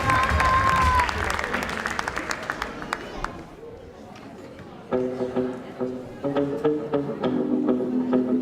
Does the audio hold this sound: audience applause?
yes